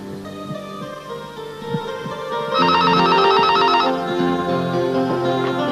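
An old telephone bell rings in a steady trilling burst, loud and close, over a constant background hum in an office scene from a classic PTV drama; no one speaks.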